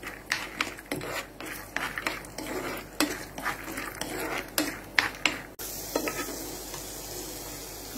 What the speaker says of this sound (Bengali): দিয়ে দিচ্ছি চীনা বাদাম।